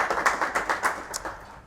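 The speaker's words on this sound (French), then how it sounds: "Je peux les applaudir." A small audience applauding guest panelists at a youth church event, a few hands clapping in quick, uneven rhythm that thins out and fades after about a second.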